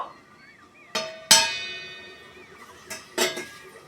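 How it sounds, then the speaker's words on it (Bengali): A metal lid comes off a pot of loitta fish cooking in a village kitchen: a few sharp clanks and rings, two louder hits near the start and more later, each ringing briefly before fading. "ঢাকা খুলে দেখে নেব"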